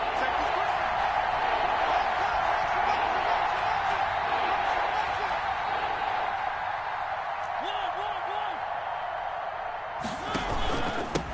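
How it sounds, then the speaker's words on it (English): A stadium crowd in Madden 21 football roars in a steady sustained swell, broad and far-off, under ongoing commentary, with sharp thuds near the end. "And the crowd getting into it as we come up on a big third down."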